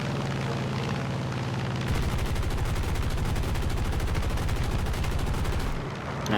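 A Japanese F4U-1a Corsair's machine guns fire in War Thunder, a loud rapid burst of several seconds over a constant aircraft engine drone, the guns falling silent just before the end.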